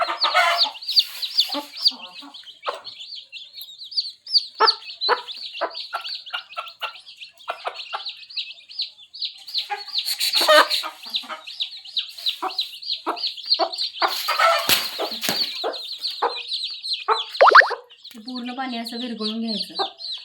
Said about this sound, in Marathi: कोंबडी खाते निवांत पिल्यांना आपलं शिकवत असते